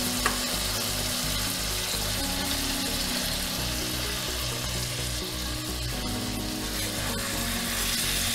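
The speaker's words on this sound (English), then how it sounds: "You can gently place your meat in the pan." Ostrich steak frying in garlic butter in a hot pan, a steady, close sizzle that carries on throughout with faint stirring and spattering.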